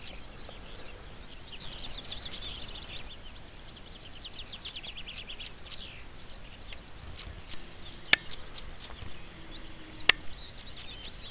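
Birds chirp faintly on an open hillside on Moel Famau, and two sharp, isolated clicks stand out, like two stones knocked together.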